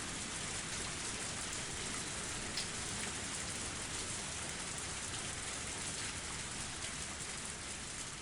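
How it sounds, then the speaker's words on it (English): Heavy rain pours steadily as a dense, even hiss with no break, fairly faint and with no voices over it. "Just started raining heavily."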